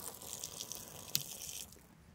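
Water runs from the tap of a camping water tank in a slow, steady trickle, heard faintly and close by, with one brief sharp drip or clink near the middle and no talk.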